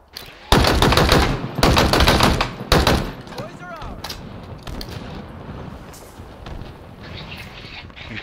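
Halo Infinite Slayer gunfire erupts in three loud, close automatic bursts over the first few seconds, then gives way to quieter game noise with mechanical clinks.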